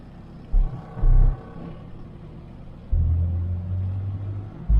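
A 1991 two-ton car's engine rumbles low and close, with a couple of brief surges before settling into a steady, deeper drone as it pulls away in second gear with no throttle.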